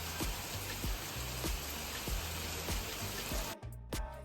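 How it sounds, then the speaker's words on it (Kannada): Heavy, steady monsoon rain pours down in Goa in a dense hiss, with occasional louder drips and splashes breaking through; it drops away briefly near the end before resuming. "so this is the range of ಮಳೆ ಇವಾಗ ಕಮಿಂಗ್"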